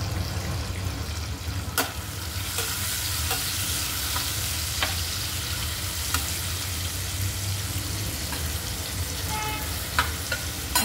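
Garlic and green chilies tempering in hot oil in a pan, a continuous close sizzle and crackle with scattered sharp pops and occasional clinks of a utensil, no voices.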